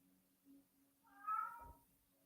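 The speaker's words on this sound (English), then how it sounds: "My cat's meowing." A cat gives a single soft, drawn-out meow, close and fairly quiet, preceded by a faint short sound against a near-silent indoor background.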